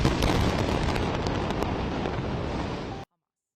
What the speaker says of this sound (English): Explosions rumbled through the night after Israel declared war on Hamas on Saturday.